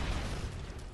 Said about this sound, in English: Thermobaric grenade.